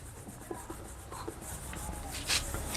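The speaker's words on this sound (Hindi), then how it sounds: "इसको हम साइड में लिखते हैं" Marker or chalk strokes on a board during a maths lesson, a few short scratchy taps and rubs, faint and close against a quiet room.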